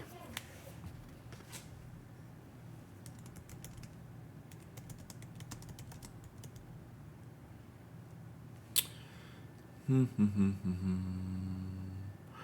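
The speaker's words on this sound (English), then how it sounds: "Sorry, I'm typing this up." Typing on a computer keyboard: quiet, irregular key clicks and taps run close by, with a sharper clack near the end and brief low murmuring bursts afterward.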